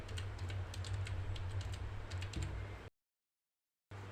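A computer keyboard types a short word in quick, close clicking bursts over steady room hum, then the sound cuts to a second of silence before the hum returns.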